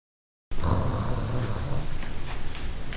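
A person snores loudly while asleep, with deep, rough rasping breaths repeating close by for nearly three seconds after a brief silence.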